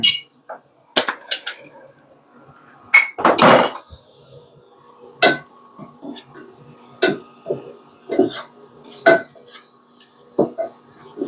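Pork with spices being stirred in a cooking pan: a series of sharp metallic scrapes and clinks from the spoon against the pan, coming in irregular bursts with short quiet gaps between them.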